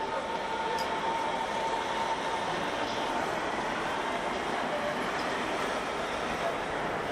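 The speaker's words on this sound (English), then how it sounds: "Caution, the train is arriving." A train pulls into a busy Berlin station platform, giving a loud, continuous rumble and rail roar that fills the whole stretch without letup.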